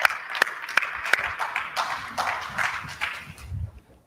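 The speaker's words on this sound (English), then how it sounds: "Please give him a warm applause." Scattered audience clapping at a talk on innovation and the energy economy, with sharp individual claps at first, then a thinner patter that fades out toward the end.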